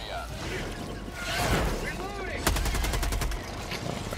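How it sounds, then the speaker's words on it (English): Rapid automatic gunfire in the co-op shooter Helldivers 2, aimed at swarming flying bugs: bursts of shots over a busy game din with whooshing effects, ending in a fast rattling volley, while players talk over it. "Let me shoot these things out the sky"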